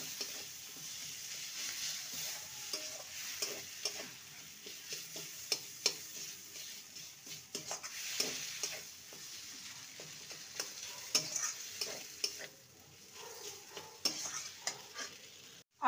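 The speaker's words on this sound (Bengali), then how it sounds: "মশলার সাথে আলুকে ভালো মতন কষিয়ে নিয়েছি" Mashed boiled potatoes being stirred and fried with spices in a pan for a cabbage roll filling, a soft continuous sizzle broken by frequent scraping and tapping of the spatula, fairly faint.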